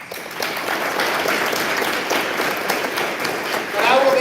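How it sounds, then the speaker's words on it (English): An audience applauds steadily at a youth civic assembly, the clapping sustained and fairly loud from start to finish. "Round of applause, please."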